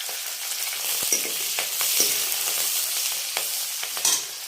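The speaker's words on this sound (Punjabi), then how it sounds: "ਹੁਣ ਆਪਾਂ ਇਹਦੇ ਵਿੱਚ ਅਦਰਕ ਪਾ ਦੇਾਂਗੇ ਨਾਲ ਹੀ ਆਪਾਂ ਹਰੀ ਮਿਰਚ ਪਾ ਦੇਾਂਗੇ" Garlic, ginger and green chillies fry in hot oil with a steady, loud sizzle, broken by a few sharp clicks and scrapes of a stirring utensil. No voices.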